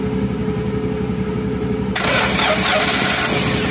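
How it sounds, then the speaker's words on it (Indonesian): A Daihatsu Gran Max with a fault code cranks and fires up, then settles into a loud, close idle that runs low and uneven, with a steady rumble. "Oke, kita langsung nyalain mesinnya sambil kita cek yo."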